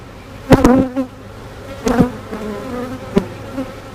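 Honeybees buzzing close by at an open hive full of nectar during an inspection, with several sharp bursts of loud buzzing standing out over a steady hum of the colony.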